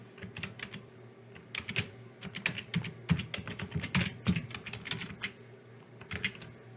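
A strong password is typed on a computer keyboard during Linux lab setup. Rapid, close key clicks come in uneven bursts with brief pauses, and louder, busier typing fills the middle.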